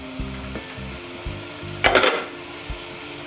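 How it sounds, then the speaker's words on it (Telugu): Pieces of mutton frying in oil in a pan for a spicy Telangana-style curry, with a brief loud sizzle burst in the middle and scattered stirring clinks and scrapes, close up and without talk. "ఇట్లా దీన్ని ఒక 5 నిమిషాలు మంచిగా నూనెలో గోలియాలి."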